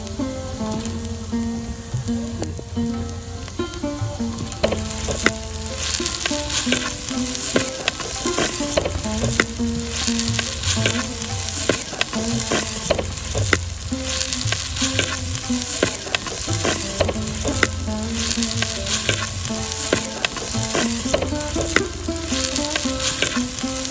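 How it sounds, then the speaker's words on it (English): Chopped smoked tomatoes, chilies and smoked eggplant fry in a pan outdoors in a Mangalore village kitchen, a loud continuous sizzle broken by frequent scraping and stirring clatter, close up, with no one talking. "Now add the chopped smoked tomatoes. In the end, add the chilies and the smoked brinjals or the eggplants or the badanekai."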